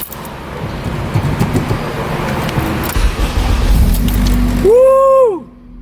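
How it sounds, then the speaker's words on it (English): Car with a newly repaired exhaust drives with a steady low engine rumble that ends in a rising then falling whine before fading out; a voice briefly speaks near the end. "now that the car is not deafeningly loud, you can actually drive it like a normal car"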